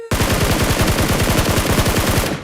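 Loud, rapid automatic gunfire from the mobile battle-royale game PUBG Mobile, a continuous burst of closely spaced shots lasting a couple of seconds with no talk over it.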